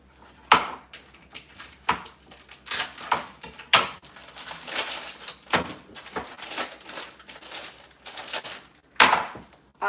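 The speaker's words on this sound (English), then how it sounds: "So I personally think that beef liver is easier to cut up when it's kind of frozen." A knife chopping partly frozen beef liver on a board, with irregular hard knocks and crunchy cuts, some quick runs and some spaced strokes, close and fairly loud.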